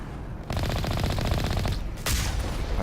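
Enemy turrets fire in a 2007 space RPG video game, a loud rapid burst of automatic gunfire lasting a couple of seconds, followed by a sharp blast.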